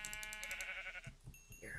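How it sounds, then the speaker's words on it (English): A sheep in the game Minecraft bleats with a wavering, quivering call, followed by short game sound effects. "Sheep! I need your wool, bitch."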